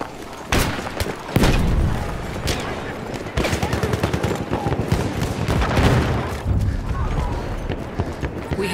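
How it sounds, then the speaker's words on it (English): Battlefield 1 battle soundscape: loud bursts of rifle and machine-gun fire with heavy booms, including a grenade explosion, sharp cracks scattered across several seconds amid continuous combat noise, with a voice shouting at times. "Throwing grenade!"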